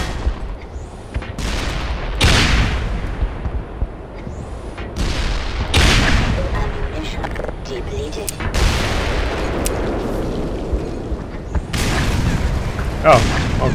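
Repeated grenade explosions against a building in the shooter game Black Mesa: a string of loud, sharp blasts a second or two apart, each trailing into rumbling debris, with a voice talking between them.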